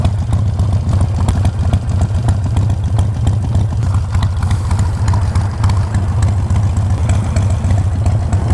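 A Harley-Davidson Sportster 48 motorcycle idles close by, its engine holding a steady, throbbing low rumble that runs unbroken and fairly loud with no voices over it.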